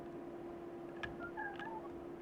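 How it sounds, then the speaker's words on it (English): A cat meows faintly in the background, a few short tonal calls rising over a steady low hum in a quiet room. "I can hear the cat"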